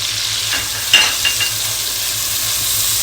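Spices and ginger garlic paste fry in a chicken karahi with a steady, close hiss, broken by a few soft stirring knocks near the start.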